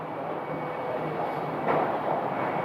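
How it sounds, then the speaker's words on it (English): Airplane making a hard landing on the runway at Phoenix Sky Harbor airport on a breezy day, a steady broadband roar heard from a distance, swelling slightly as it touches down. "that looked like a hard landing to me"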